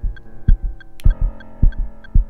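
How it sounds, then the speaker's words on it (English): A heartbeat sound effect from the Nintendo Switch game Self throbs in loud, steady double thumps over a low droning hum with faint chimes, no voices. "My heart beat faster."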